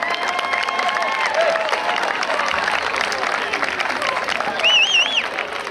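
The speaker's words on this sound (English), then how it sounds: "Fans, a nice round of applause" Crowd applause at a boys' varsity lacrosse section final for the runner-up West Genesee Wildcats, a steady wash of clapping and cheering with whistles and a public-address voice running over it.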